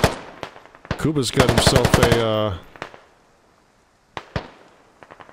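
Gunfire in the military shooter game Squad: a dense burst of rapid automatic fire followed by scattered single shots. A voice speaks briefly over the shooting.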